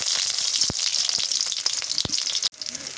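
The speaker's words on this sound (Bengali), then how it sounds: "তেল আনি দিই পেঁয়াজ কুচি দিই" Chopped onion sizzles loudly in hot oil, a bright close crackle punctuated by a few sharp pops, then briefly cuts out before resuming more softly.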